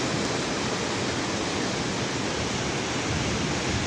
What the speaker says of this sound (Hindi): पानी की आवाज़ आपको आ रही होगी।